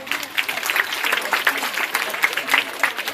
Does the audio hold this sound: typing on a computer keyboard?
no